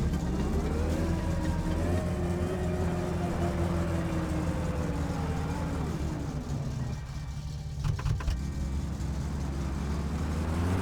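A car engine driving at night in the game My Summer Car, loud and continuous, its pitch rising and falling as it revs and shifts, with a brief dip followed by a few rough bursts.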